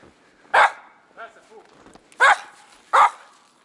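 A small dog barks three sharp, close times with pauses between, with quieter whimpering noises in the gaps.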